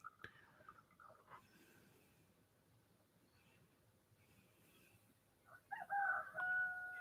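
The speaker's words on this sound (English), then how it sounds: "let a dying rooster start your day" A rooster crows faintly at the start, then after a quiet stretch a louder, strained crow rings out near the end over low background noise.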